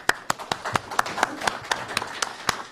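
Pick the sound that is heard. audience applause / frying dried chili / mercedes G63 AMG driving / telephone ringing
audience applause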